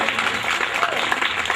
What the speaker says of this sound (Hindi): कृपया एक बार जोरदार तालियां।